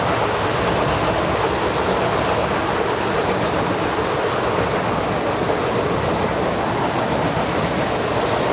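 A Metro North commuter train passes at Williams Bridge station, a loud, steady rush of wheels and rail noise filling the whole stretch with a faint high squeal above, no voices.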